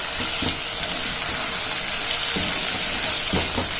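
Garlic and softening onion sautéing in a pan before chicken gizzards, hearts and liver go in for a rice dish, a close, steady hiss of frying with a few soft stirring knocks and no voices.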